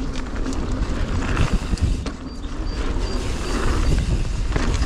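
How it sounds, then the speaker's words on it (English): Strong wind buffets the microphone on a mountain bike trail, a loud, steady roar with gusty low rumbling that swells and eases throughout, with no voices. "Oh, it's windy."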